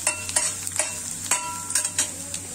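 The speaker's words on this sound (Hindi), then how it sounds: "इसको अच्छे से भूनूंगी।" Garlic fries in a pan, with a soft steady sizzle and repeated light scraping taps from stirring, quiet and close, with no voices.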